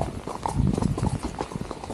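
A horse's hooves clip-clop in a brisk, uneven rhythm as it is ridden, close by, with faint background noise and no clear speech.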